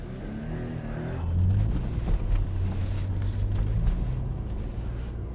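A cheap sports car drifts on a wintry road, its engine revving in a rough low drone as the spinning wheels roar and rumble. The sound is steady and close, swelling slightly in the middle, with no talk.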